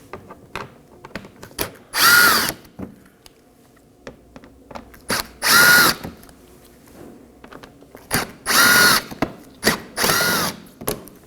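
A cordless power drill spins out Phillips head screws beneath the front bumper of a 2015-2023 Nissan Maxima, four loud whirring bursts separated by quiet pauses with faint tool handling between them.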